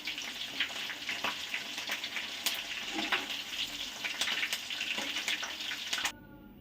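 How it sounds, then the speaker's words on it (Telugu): Chicken pakodi deep-frying in hot oil makes a dense, steady crackling sizzle with scattered bright pops, moderately quiet and continuous before cutting off abruptly near the end. "చికెన్ పకోడీ అనేది ఇలాగా ఫ్రై అవుతుండగానే"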